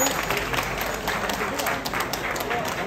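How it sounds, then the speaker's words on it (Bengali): Audience applause at a tribute gathering honoring laboratory staff, a moderate wash of clapping with scattered sharper claps, steady across the stretch. "মনে হয় সবার একটা হাততালি দেওয়া উচিত এই গোল্ডেন ল্যাবরেটরিজের জন্য"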